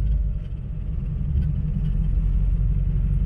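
A Mazda RX2 swapped with a Gen V 5.3 V8 rumbles steadily on a track, its engine held at a loud, continuous low drone for a few seconds with no voices.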